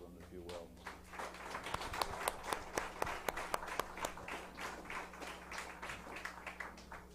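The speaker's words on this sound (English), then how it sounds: "How about now we can show our applause to both of them, if you will." Applause at a county supervisor candidate forum: a modest audience claps in a crisp, moderately close burst that swells and then thins out, over a low steady hum with some talking.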